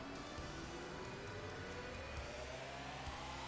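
Race car engine in the PS1 game JGTC (All Japan Grand Touring Car) holds a steady, rising whine as it accelerates, with a continuous rumble and small popping backfires underneath.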